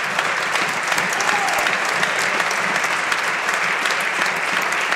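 Members of the Canadian House of Commons applaud during question period, a loud, sustained roar of clapping filling the chamber with no pause throughout.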